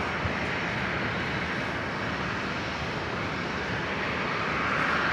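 An Air Niugini airliner at Brisbane International Airport starts its takeoff roll, a steady, even engine roar that holds at a distance and swells slightly toward the end.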